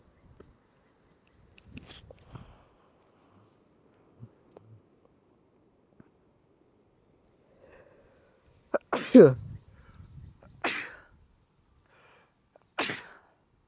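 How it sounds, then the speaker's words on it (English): A sharp, loud sneeze bursts out in a quiet room, followed by a couple of short breathy gasps and faint movement sounds. "sometimes the sneeze just comes in plow pose"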